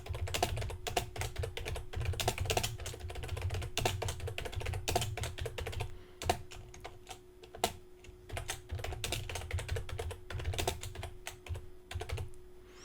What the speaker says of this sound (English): And now I can type what I want there.